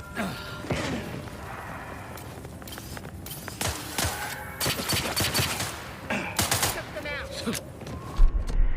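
Gunfire in The Outer Worlds 2, scattered sharp shots and bursts over busy combat ambience with footsteps and clattering, while voices talk intermittently.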